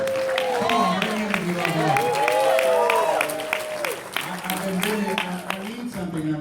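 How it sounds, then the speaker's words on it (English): Sustained applause from a large stadium audience at a motivational speaker's live event at SunLife Stadium in Miami, steady clapping running under voices throughout. "Give yourselves a round of applause for still being here."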